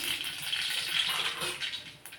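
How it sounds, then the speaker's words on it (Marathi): Mustard seeds spluttering in hot oil for a dal khichdi tempering; a steady, close hiss of frying with faint crackles throughout. "तेल तापलंय आता आपण टाकून घेऊ मोहरी"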